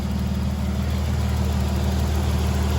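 A 1985 Nissan 300ZX engine idles just after a power steering pump and belt replacement, a steady, even low hum running unbroken and fairly loud throughout.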